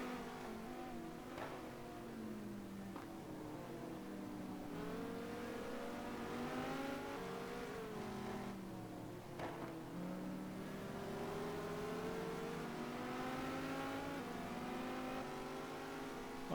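GT race cars in a racing video game roar through the wet toward the Brno circuit's first corner, several engines rising and falling in pitch together as they accelerate, loud and steady with no talk.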